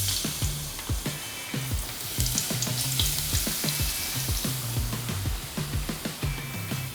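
Burdock deep-frying in a pot of hot oil gives a steady, close sizzle, with a run of soft rhythmic clicks and taps layered over the bubbling.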